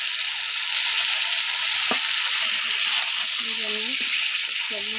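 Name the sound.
chicken korma masala frying until oil separates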